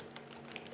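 Keystrokes on a computer keyboard, a short quiet run of soft taps in a room.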